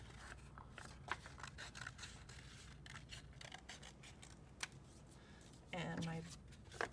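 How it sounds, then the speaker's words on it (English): Scissors snip repeatedly with sharp crisp clicks, close up, a short burst of rustling paper and movement near the end. "With my scissors, I'm going to carefully cut my fish shape out."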